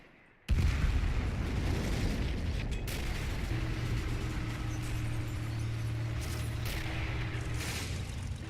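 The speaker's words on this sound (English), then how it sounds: "I think that might be the long Toms firing." Long Tom artillery guns fire in the Men of War: Assault Squad 2 game, a sudden heavy boom followed by a long rumbling roll with scattered distant blasts and a low drone beneath.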